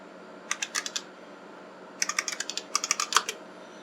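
Keys clatter on an IBM AT 5170 keyboard in two quick bursts of typing, sharp close clicks with a short pause between the runs.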